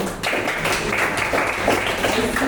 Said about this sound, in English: Can we have a clap for them?